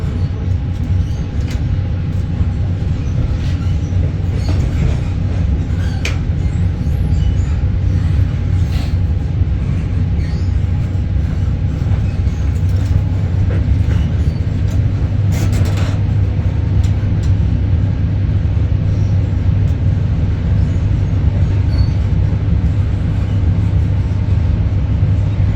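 Steady low rumble and rolling drone from inside a ScotRail HST (High Speed Train) in First Class on the Edinburgh to Aberdeen line, continuous and loud throughout with faint rattles and clicks over it.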